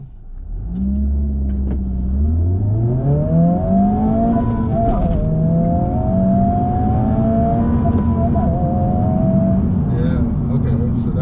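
A 2023 Honda Civic Type R accelerates hard from a standstill toward 60 mph, its engine revving up through the gears with rising pitch and brief shift dips, loud and close from inside the cabin.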